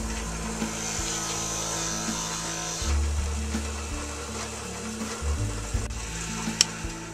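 Continuous grinding, buzzing power tool as a 1/8 drill bit recesses wood for a fishing rod holder, with a low steady motor hum that shifts pitch a few times, close up, no talking.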